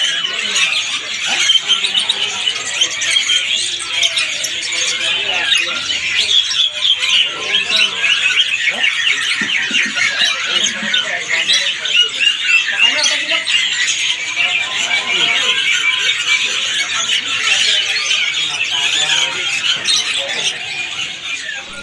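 A caged songbird calls in rapid, high-pitched chirping trills that go on continuously, with voices talking faintly in the background.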